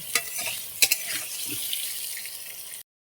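Potatoes with turmeric and salt stirred in hot oil in a frying pan, a steady close sizzle with a few sharp clinks of the spatula against the pan before it cuts off.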